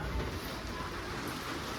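Heavy rain and storm wind on a farm, a dense steady roar of rainfall and gusting air, loud and continuous without a break.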